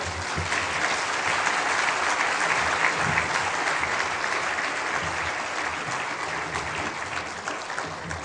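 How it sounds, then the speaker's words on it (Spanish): Steady, dense applause from a large convention audience, loud and continuous throughout with no pauses or voices standing out. "Las sonrisas, los aplausos de nuestro auditorio"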